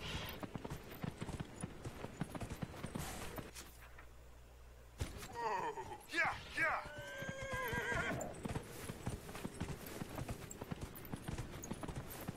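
A horse in the video game Dragon Age Inquisition: repeated clip-clop of hooves throughout, with a loud, close whinny in the middle, under game ambience and a voice talking.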